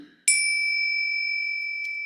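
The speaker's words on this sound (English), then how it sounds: "I'll ring the bell again" A meditation bell is struck once during a compassion practice session, a bright, clear ding that rings on alone with a long, slowly fading shimmer.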